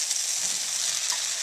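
Mushrooms frying with tomato, onion and garlic for Tibetan shameytsel, a steady close hiss of sizzling oil with a faint stir near the end, no voices.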